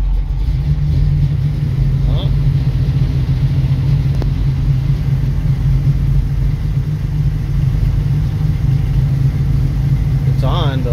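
A cold-blooded car engine with a Holley carburetor runs at a steady, loud, rumbling idle that holds constant throughout, with a faint brief voice near the end.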